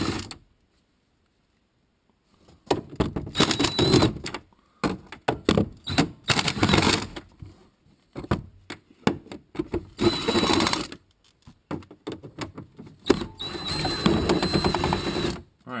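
Screws being backed out of a Chevy Suburban dashboard during dash removal for A/C evaporator work, a close, loud mechanical whirring and rattling in several bursts separated by brief pauses.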